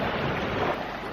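Ocean waves crash through rocks along a beach, a loud, dense, continuous wash of surf with wind noise and no voices.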